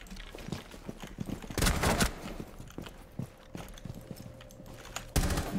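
Gunfire in Rainbow Six Siege comes as sharp bursts and scattered shots amid footsteps and game noise, with a loud volley near the middle and another at the end.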